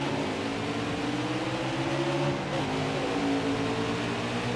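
Race car engines droning together at the start of a NASCAR Heat 5 race at Las Vegas, a steady layered hum with a rising pitch sweep from a passing or accelerating car, no talk.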